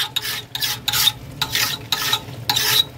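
A large pot of chicken biryani, a 30 kg batch, gets stirred with a metal spoon, giving rhythmic scraping sweeps about twice a second, close and loud with a sizzling undertone.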